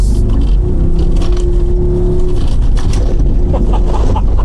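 A Mercedes-Benz AMG G-Class accelerates hard on an off-road surface, its engine a loud, deep, steady roar with gravelly crackle on top and a low tone that fades partway through.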